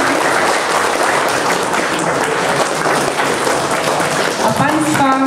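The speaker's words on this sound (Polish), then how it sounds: "Ja proszę o wielkie brawa dla naszych gości." Loud, sustained applause from an audience welcoming guests at an event about a Polish fighter aviation regiment, a dense wash of clapping throughout, with a voice beginning to speak over it near the end.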